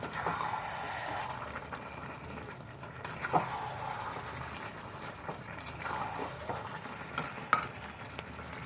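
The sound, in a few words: stirring and frying spiced mutton (mutton kosha) in a pan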